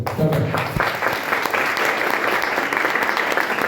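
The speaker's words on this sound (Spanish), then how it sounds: "le damos un aplauso" Church congregation clapping to welcome a woman named Griselda, a dense, lively round of applause that starts right away and keeps up at an even level, with a few voices mixed in.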